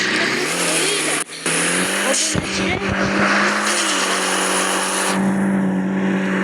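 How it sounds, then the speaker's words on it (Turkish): A turbine-engined race car in the racing game Avtospeed roars loudly and continuously, its whining engine tone rising and shifting with brief tire squeals, while someone talks over it. "Obunachilar mana o'sha turbina motor."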